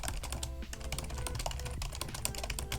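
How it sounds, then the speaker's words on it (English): Steady computer-keyboard typing, dense rapid keystrokes in a continuous run, close and clear with no voices over it. "Just typing it in my notes"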